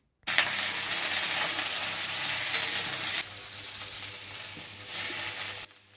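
Chopped eggplant and onion hit a hot pan with potatoes and green chilli, setting off a loud continuous sizzle that eases after a few seconds and then swells again while being stirred.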